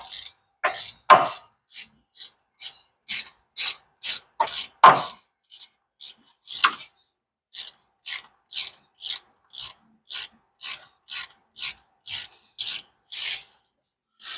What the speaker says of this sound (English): go ahead and continue taking these bolts out the rest of the way.